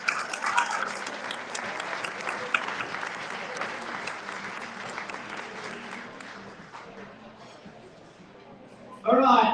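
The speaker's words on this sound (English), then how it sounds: "Again, a big round of applause for all." Audience at a Melbourne Firefighter Stair Climb awards presentation gives a sustained round of applause, dense and even at first, then thinning and fading, before a voice cuts in at the very end.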